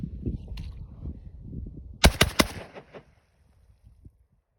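Dragon camouflage semi-automatic shotgun firing 34 gram shells outdoors, three sharp reports in quick succession with a short fading echo, after quiet low rumbling and handling sounds.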